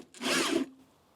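A core drill bites into a wall containing a bit of wood during an EV charger move, a brief loud grinding rasp lasting about half a second before cutting off.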